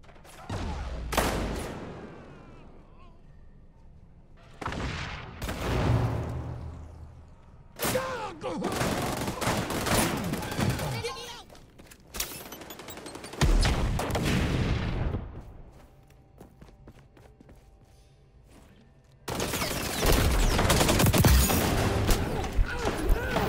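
Gunfire in the video game XDefiant: loud bursts of automatic fire and booming shots in repeated volleys separated by short pauses, ending in a long sustained barrage.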